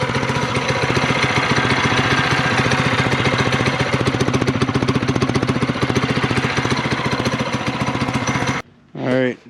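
Small Warrior 160 engine running loud and close with a steady rapid chugging rhythm, still going after the machine fell over, then cutting out near the end with a brief voice.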